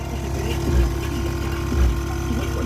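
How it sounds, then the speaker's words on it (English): Air compressor running while filling up, a steady, droning mechanical hum with a low motor thump pulsing roughly once a second, close and continuous. "sorry for the noise. Waiting for the compressor to fill up"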